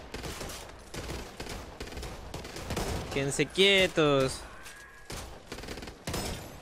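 Bursts of gunfire from the video game Back 4 Blood crackle intermittently, with a denser volley midway, mixed under excited Spanish-speaking players talking over the action.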